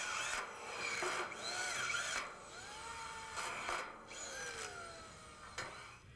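A power drill drives frame screws through neck tie clamps into a steel roof-wall mount, with several whirring bursts that rise and fall, separated by short gaps, close and loud with no talking.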